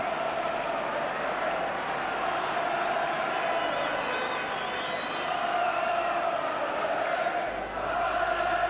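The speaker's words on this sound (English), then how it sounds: "Halifax crowd singing now, roaring their side on" A large Halifax rugby league crowd at a St Helens semi-final, a sustained roar of singing and chanting that stays steady and loud throughout.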